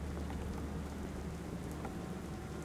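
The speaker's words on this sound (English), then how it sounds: "I know it's raining." Steady rain drums on a roof in the Kraven Manor horror game, a continuous dense hiss heard from inside an attic, even and unbroken throughout with no voices.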